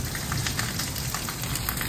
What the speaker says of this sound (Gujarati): અમારા ગામમાં વરસાદ ચાલુ થઈ ગયો છે